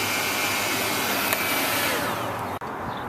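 EGO 56v cordless leaf blower running on its low setting, a loud, steady whooshing rush of air that holds constant, with one brief dip near the end.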